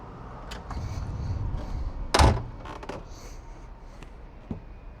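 A forward-facing door on a GranOcean W-72 power catamaran slides open with a soft rumble, then a sharp thud and a few light clicks and knocks, heard close against a quiet hum, with no talking.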